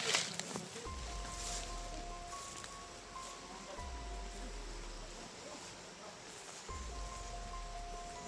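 Rain falls steadily outdoors as an even, broad hiss, with low rumbles recurring every few seconds.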